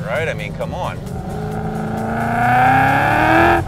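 A supercharged 2015 Ford Mustang GT with a Whipple blower, over 850 horsepower, accelerating hard in third gear, the engine note rising loudly and climbing in pitch while someone talks over it.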